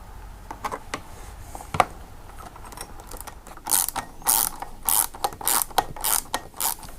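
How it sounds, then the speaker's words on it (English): Ratchet wrench turning a collared nut while fitting a Wunderlich headlight protector on a BMW F750GS motorcycle; a few scattered clicks, then a run of loud, close ratcheting bursts in a steady rhythm, with no talking. "so it fits in this wrench."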